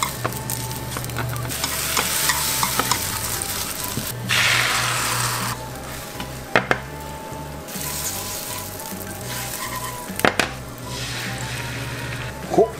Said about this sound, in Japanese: で油敷いて、でヘタっぴだけど卵巻いていきます。